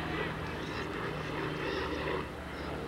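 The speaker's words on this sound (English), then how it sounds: "And a low-flying helicopter here." Low-flying helicopter passing over an outdoor college soccer match, a steady broad engine and rotor drone holding loud and constant throughout, with faint crowd or commentary beneath.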